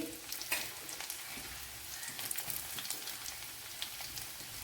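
Ginger and garlic fry in a hot pan with fenugreek seeds while a Kerala-style gooseberry curry is being started, giving a steady dense sizzle with crackling pops throughout and no talk.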